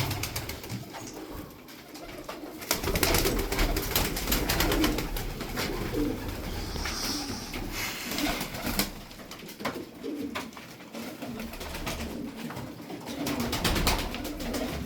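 White tumbler pigeons coo steadily through the whole stretch, several birds calling over one another close by in a loft, with soft wing flutters and rustling underneath.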